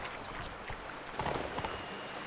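In the Witcher 3 video game, the horse Roach's hooves drum in a quick clip-clop at a gallop. The sound is faint and brief, at low level with a few sharper hoof hits, and no speech.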